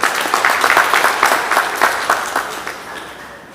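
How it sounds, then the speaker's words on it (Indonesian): Audience applause at a work meeting in a municipal hall, a burst of clapping from a seated crowd that peaks early and gradually thins out and fades over a few seconds. "Sebelumnya kita memberikan aplaus kepada Pak Kasat Indah."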